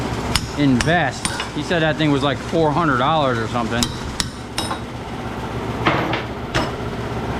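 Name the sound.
hammer and chisel breaking down aluminum extrusion scrap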